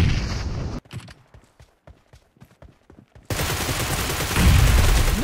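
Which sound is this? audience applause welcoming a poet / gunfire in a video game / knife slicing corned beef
gunfire in a video game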